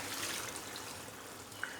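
A glass of water is poured into a pan of turnips and spinach cooking in oil, giving a faint, soft trickling and splashing wash of liquid for under two seconds, with no talking.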